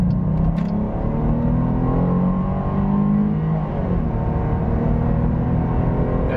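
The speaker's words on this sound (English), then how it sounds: "do a bit of an acceleration test getting up onto the highway here" A 2022 Jeep Grand Cherokee Trailhawk accelerating hard onto a highway: a loud, steady engine roar builds and rises in pitch as the SUV gathers speed, heard continuously from inside the cabin with no talking.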